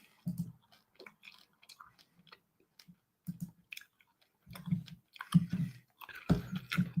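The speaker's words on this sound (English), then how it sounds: "I'm chewing gum right now." Gum being chewed close to a microphone, with soft wet smacks and clicks in an uneven rhythm, sparse at first and then coming faster and louder toward the end.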